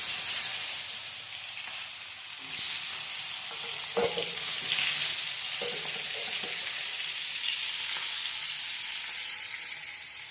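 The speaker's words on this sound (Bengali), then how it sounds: "পটল কেটে রেখেছিলাম, তো হালকা ভেজে নেব" Pieces of pointed gourd (potol) fry in oil with a continuous bright sizzle, and a few soft stirring knocks sound in the middle.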